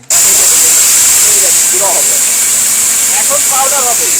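A Steel Bush blender crushes food on its high setting. It makes a loud, unbroken roaring hiss that holds steady throughout, with faint voices barely audible beneath it.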